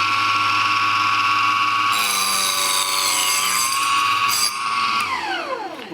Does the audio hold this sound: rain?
no